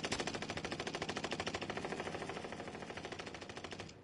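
A long, unbroken burst of fast automatic gunfire rattles in Warzone, loud and steady for about four seconds before cutting off, with no talking over it.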